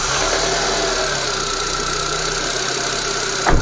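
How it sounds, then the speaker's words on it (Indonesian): A used car's engine idles steadily and loudly up close, a continuous rumbling hum with a slight rise near the end. "Kita akan dengarkan suara mesinnya."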